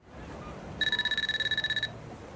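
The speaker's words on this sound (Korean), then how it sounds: "주인공 아유미는 데이트 장소로 가던 도중 의문의 전화를 받게 되는데" A phone rings with a rapid electronic trill in a Netflix original drama, a single burst of about a second heard clearly over quiet background ambience.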